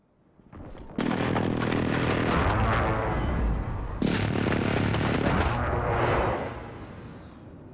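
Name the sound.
precision airstrike explosions in video game Call of Duty: Modern Warfare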